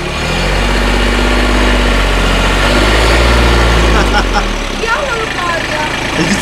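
A tractor engine runs slowly with a loud, steady, deep rumble throughout, and its tone wavers a little toward the end.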